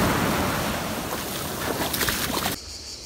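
Stormy sea waves crash and roar along the shore at Budva, Montenegro, a loud continuous wash of surf and wind that cuts off abruptly near the end.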